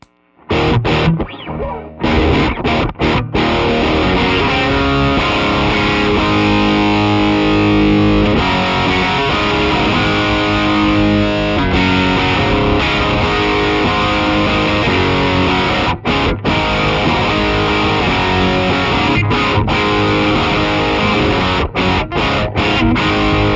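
An electric guitar runs through a Tube Screamer into a Riot distortion pedal, giving loud, thick, saturated chords and riffs that ring out continuously with a few brief choppy pauses near the start.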